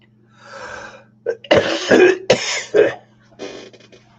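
A fit of several harsh, wet coughs in quick succession, close to the microphone, preceded by a breathy exhale and ending with a softer rasp.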